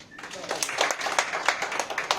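A small audience at a customer meeting claps briefly, a moderate burst of hand claps with irregular peaks, fairly close, with faint voices mixed in.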